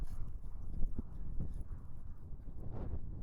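A horse canters over ground, its hooves giving a soft, rhythmic thudding that repeats steadily through faint wind noise on the microphone.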